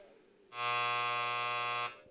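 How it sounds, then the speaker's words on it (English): A loud, steady electronic game-show buzzer blares alone for about a second and a half, a harsh harmonic tone on a sports talk show. "So hit the buzzer."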